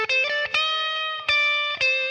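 An electric blues guitar with distortion plays a sequence of sustained, sharply picked notes, one held note bent up a half step, with clear attacks separating each phrase.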